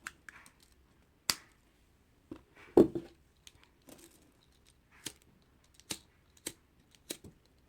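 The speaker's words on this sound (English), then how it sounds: "so we'll cut this off." Scissors snipping off the loose string ends of a safety pin kandi piece after the knot is tied, giving a few sharp, isolated clicks and snips spaced across a quiet room.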